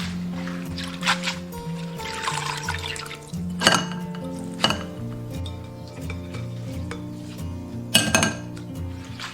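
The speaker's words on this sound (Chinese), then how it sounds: "一定要用清水多淘洗几遍" Sliced kohlrabi is rinsed in a bowl of clean water, with sloshing, dripping and occasional clinks against the bowl, close and moderately loud.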